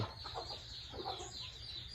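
A Burmese fighting rooster clucks nearby, giving a couple of short throaty calls over a low hum, with no talk.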